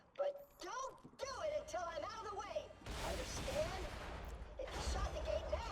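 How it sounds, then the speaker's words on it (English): A cannon firing in the video game Borderlands 2, a loud burst of blasts and crashing debris that follows a stretch of talk, with a second burst near the end. "Claptrap's going to tell me to use the cannon here, and we'll use the cannon."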